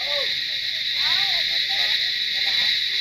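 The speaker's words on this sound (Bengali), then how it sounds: "আর এখানে দেখুন ঝিঝি পোকার ডাকটা শুধু" Crickets shrill in a steady, unbroken high drone near Tenzing Rock in Darjeeling during the rainy season, while a person talks over it in the foreground.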